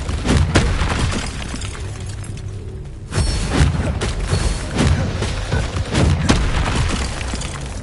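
Bombarda spell blasts in the video game Hogwarts Legacy, loud booming explosions recurring every second or two over a dense game soundscape, with no talk.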